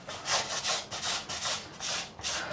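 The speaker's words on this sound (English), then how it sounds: "We've rolled over with some sandpaper." Sandpaper rubbed back and forth over the fret ends of a Fender Player Series Telecaster guitar, a steady rhythm of about seven close, fairly loud scratchy strokes with no talking.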